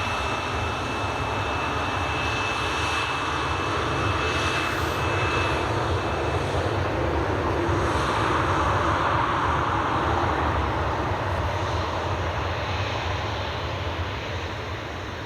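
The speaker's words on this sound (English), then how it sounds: "Another Jet2 just heading out." Jet2 airliner departing Glasgow Airport, its jet engines a steady, broad roaring rumble heard from a distance that holds at an even level throughout.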